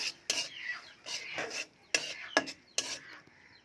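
A spoon rasps and scrapes against a pan as chhana halwa is stirred over low heat. Several distinct, close strokes come in uneven bursts, with quiet gaps between them.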